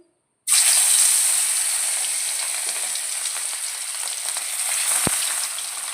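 Pieces of katla fish drop into hot oil in a pan and burst into a loud, continuous sizzle that holds steady, with one sharp knock partway through.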